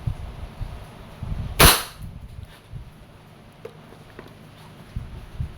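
Wingun 708 CO2 airsoft revolver fired once in single action, a single sharp, loud crack standing out against a low background hum.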